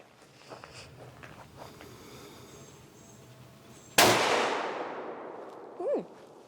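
A single loud gunshot from a Henry single shot rifle cracks outdoors, followed by a long echoing decay, with a faint voice a moment later.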